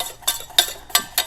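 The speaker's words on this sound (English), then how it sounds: "when I scrape the bottom of the pan, it shows the bottom of the pan a little bit" A utensil scraping the bottom of a pan of hollandaise sauce, four quick rhythmic scrapes with light metallic clinks, close and fairly loud.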